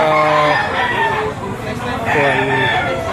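Roosters crow loudly and repeatedly at a chicken auction in Lipa, Batangas, overlapping calls from several birds close by, with clucking in the background.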